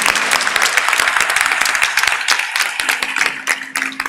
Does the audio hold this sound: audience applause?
yes